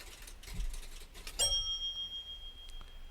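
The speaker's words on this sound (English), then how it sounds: "There goes the bell because he's blocking another control point" A control point warning bell sounds in the Railroader train simulation game, a bright ringing tone with sustained high partials starting partway in and fading out, heard alone without talk.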